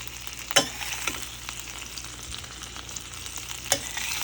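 Ruimach fish-leaves fry lightly in a pan with a continuous sizzle, broken by two sharp utensil taps and some quiet stirring, close up and without voices.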